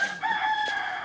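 A rooster crows once outdoors in the Philippines, a sustained, slightly wavering cock-a-doodle-doo that rings out clearly and fairly close, with faint background noise.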